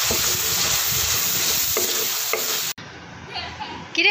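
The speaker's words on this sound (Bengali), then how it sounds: "তা আমি পাতাকপিটা রান্না করব, এই জন্য মশলাটা ভালো করে কষিয়ে নিচ্ছি।" Spice masala frying in a pan while being stirred, ahead of cooking cabbage: loud, continuous close sizzle with scraping strokes, cutting off abruptly near the end to quieter clatter.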